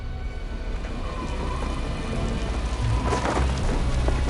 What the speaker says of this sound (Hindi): ये कैसा तूफान आया है?